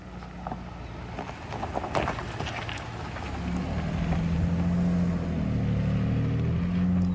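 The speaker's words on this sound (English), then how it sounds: "TRD exhaust sounds so good" A 2022 Toyota Tundra SR5 TRD Off Road pickup engine rumbles low and steady through its TRD exhaust, growing louder and deeper partway through as the exhaust note builds.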